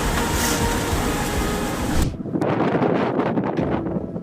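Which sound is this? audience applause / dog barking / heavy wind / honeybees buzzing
heavy wind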